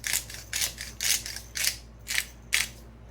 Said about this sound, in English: So it's just going to grind some black pepper.